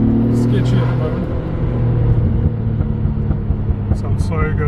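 Nissan R32 GT-R engine rumbling low and steady from close by, with people talking over it at the start and end.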